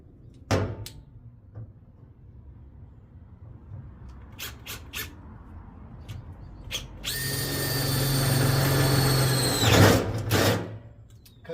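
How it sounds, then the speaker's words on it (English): A power drill whirs up to a steady high-pitched whine for a few seconds, near and loud, after scattered clicks and knocks. "let's drill some holes"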